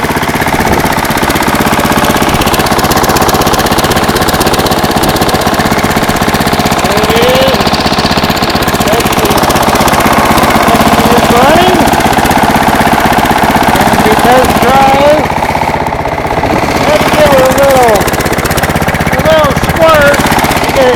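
A loud, steady Snapper lawn mower engine runs cold throughout with rapid knocking pulses, close to the microphone, while someone talks intermittently over it.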